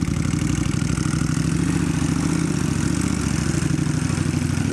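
A Kawasaki Vulcan 1500 motorcycle engine idles close by, a steady, loud, low-pitched rhythmic rumble that holds unchanged throughout with no talking.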